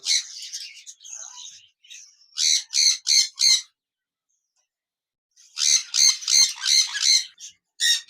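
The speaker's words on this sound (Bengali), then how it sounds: "এখানে দেখতে পাচ্ছেন একজোড়া লোটিনো রেড আই বাজরিকার পাখি রয়েছে" A pair of lutino red-eye budgerigars gives bright, close chirps and squawks in quick bursts of four or five notes, with a short quiet gap before another lively run; no voices.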